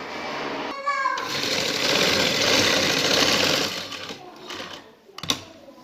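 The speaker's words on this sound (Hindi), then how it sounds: "अब इसी तरीके से दूसरी साइड से भी हम ये स्टिचिंग करेंगे।" A sewing machine stitches fabric for a neck design with a steady rapid mechanical whir lasting several seconds before slowing and stopping with a faint click, close by.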